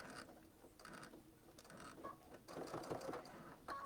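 A sewing machine machine-binds a quilt, running in short bursts of stitching with brief pauses between them; quiet and close, with no voices.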